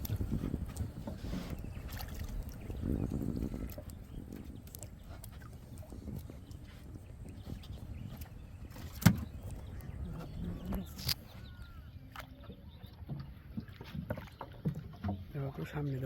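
A small boat moves through village flood water, with steady water noise and wind over the whole stretch and a sharp knock near the middle. Voices talk in the background.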